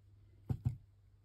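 Beading wire for peacock feather earrings is trimmed with two quick, faint snips close together, then quiet.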